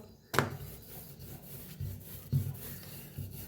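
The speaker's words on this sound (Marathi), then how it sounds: "खाली तेल लावायचं आणि लाटून घेऊया मस्त असं लाटायचं बघा" Rolling pin pressing out an oiled ball of dough in a home kitchen for a pumpkin recipe, making soft, low rubbing rolls repeated a few times, faint and close, with no talk.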